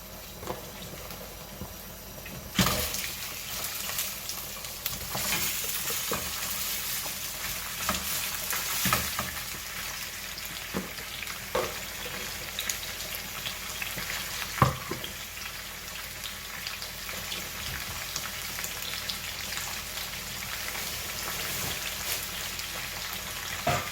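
Meat fries in hot oil in a pot, giving a continuous close crackling sizzle with scattered sharper pops and occasional stirring knocks across the whole stretch, no voices.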